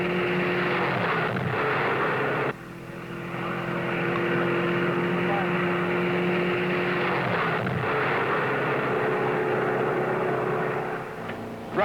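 A 1960 Chrysler 300F circles a high-banked concrete oval, its engine roaring loud and steady. The pitch drops sharply once as it passes, then builds again while the car keeps lapping.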